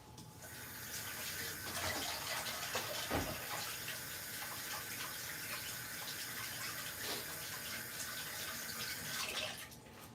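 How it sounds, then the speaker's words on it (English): Tap water runs steadily from a faucet into a sink during hand and mouth washing, a continuous broad splashing hiss that holds for the whole stretch with one brief thud near the start, and no talking. "I'm going to go wash my hands and mouth."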